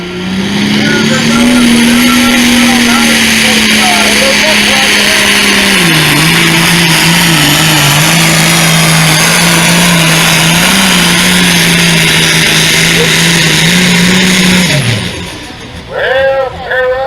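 A big Case International MX 240 tractor roars under load at a tractor pull, its engine drone holding steady for about fifteen seconds before dropping off, with an announcer talking over it.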